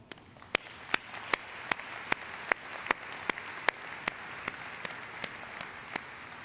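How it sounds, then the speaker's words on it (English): Applause from a large crowd of plant associates at the BMW X3 world premiere in Spartanburg, South Carolina, a steady dense clapping with sharp individual claps standing out, moderately distant and sustained throughout without speech. "our associates deserve a big round of applause"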